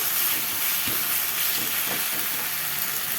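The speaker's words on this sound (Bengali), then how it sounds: "এখন এই মশলাটা দিয়ে ভালো করে আগে কষিয়ে নিই" Spice mix sizzling in hot oil while being sautéed and stirred in a home kitchen pan, a steady close hiss with occasional scraping bumps, no talking.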